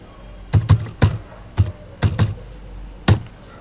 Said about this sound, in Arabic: دخلت على الادمنستريتور كتبت الباسورد بتاعنا